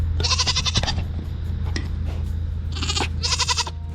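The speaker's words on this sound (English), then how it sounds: "These goats are super mad." Hungry farm goats bleating loudly up close, several harsh, wavering calls in bursts over a steady low hum, with no talk over them.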